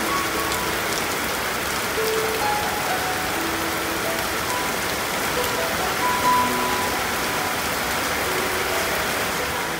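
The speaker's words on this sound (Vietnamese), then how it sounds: "Tại thì cũng đã bớt mưa rồi" Steady rain patters continuously on surfaces near a moored barge, a dense even hiss with no pauses throughout.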